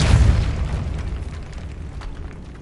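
The Depulso force spell cast in Hogwarts Legacy lands as a heavy booming burst at the start that rumbles and fades away over a couple of seconds.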